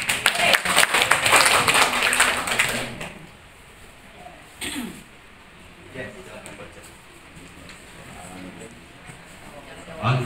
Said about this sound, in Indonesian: Oke, tepuk tangan buat Aska.